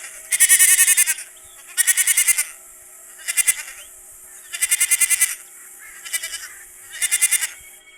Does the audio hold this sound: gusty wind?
no